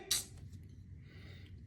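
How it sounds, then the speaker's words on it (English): A single sharp sneeze bursts out near the start, followed by quiet breathy room noise and a faint second onset at the very end, close and otherwise alone. "You've been sneezing too much!"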